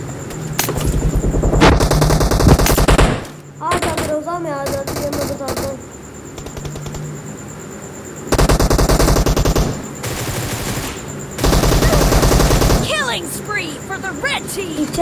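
Loud automatic gunfire in the mobile battle-royale game PUBG Mobile, with several sustained bursts of rapid shots separated by short pauses and quieter game sounds.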